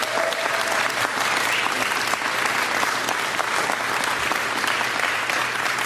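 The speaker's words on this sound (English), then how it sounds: "Let's give them a big round of applause." An audience claps at a political event. The applause is loud, dense and sustained, a steady roar of many hands with no break.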